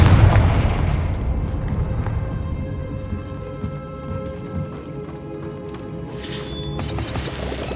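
A Confringo fire spell goes off in Hogwarts Legacy with a deep boom at the start, then fades into rumbling game ambience and light clattering.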